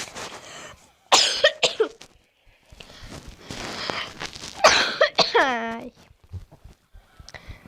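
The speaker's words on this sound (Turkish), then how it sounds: "Gerçekten çok öksürüyorum." A person coughs several times in harsh, uneven bursts, with breathy throat noises and quiet pauses between the fits, while playing Clash Royale.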